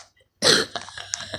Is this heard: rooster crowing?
no